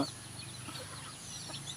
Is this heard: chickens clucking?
yes